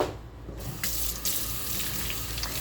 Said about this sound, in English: you got to rinse your sponge thoroughly to get all the soap out